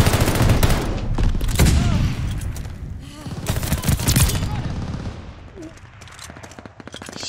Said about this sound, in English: That gun sounds pretty cool.